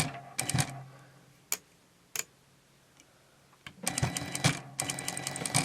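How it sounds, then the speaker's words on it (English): A domestic sewing machine stitches close to the edge of a fabric face mask in short rattling bursts, pausing between runs, then running in a longer stretch of quick mechanical ticking. "I'm going to stitch very, very close to the edge here."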